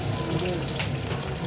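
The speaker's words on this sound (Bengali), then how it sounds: "পেঁয়াজ হালকাই ভাজা হয়েছে।" Onions lightly fried in a pan for mutton curry, with turmeric being added, give a steady close sizzle with faint stirring scrapes throughout.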